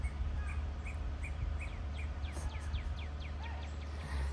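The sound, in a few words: bird screaming and honking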